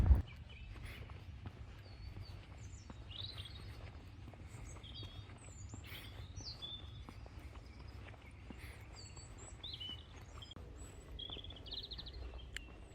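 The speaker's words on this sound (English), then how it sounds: "you can hear the birds sing." Birds chirp and sing in short, scattered calls over faint rustling and footsteps on a quiet woodland walk near Dollis Hill Brook Farm, all soft and fairly distant.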